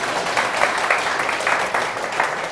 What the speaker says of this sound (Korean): 박수로 좀 함께 해주시면 감사드리겠습니다.